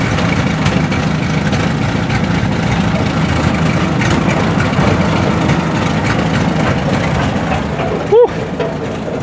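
A 1976 Dodge Sportsman Amerigo motorhome engine idles with a steady, rough low rumble close by, continuous and loud, ending in a brief sharp knock.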